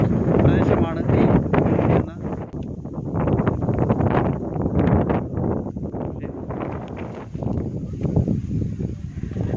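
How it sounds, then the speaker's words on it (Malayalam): Strong wind gusting across a hilltop at Ponmudi, a steady roaring buffet against the microphone that runs loud throughout, with someone talking under the rush of air. "അത്രയും ഇവിടെ തന്നെ എടുത്ത് മറച്ചുകൊണ്ട് പോകാൻ തയ്യാറെടുത്തിരിക്കുന്ന കാറ്റ് പോലെയുണ്ട്"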